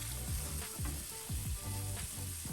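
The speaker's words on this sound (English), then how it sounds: "now I'm flipping it over, and I'm going to allow the skin to cook a little bit longer than the flesh" Flipped salmon with its skin side cooking on a barbecue grill gives off a faint, continuous sizzle that stays even throughout.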